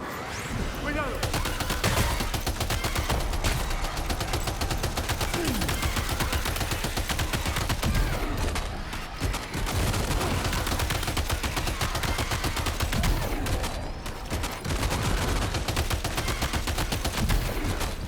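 Gunfire in the Death Stranding 2 video game: sustained, dense bursts of rapid automatic shots run almost nonstop, loud and close, with brief lulls between volleys.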